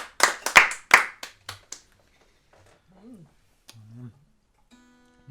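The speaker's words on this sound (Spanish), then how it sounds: "Aplausos, Señor." Congregation clapping during a Spanish-language church service, a few sharp hand claps in quick succession at the start, then the clapping fades and a voice speaks softly.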